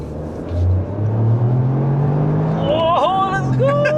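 A Toyota GR Yaris GTS engine pulls hard under acceleration, its loud droning note climbing steadily as it revs up, while excited voices call out over the top toward the end.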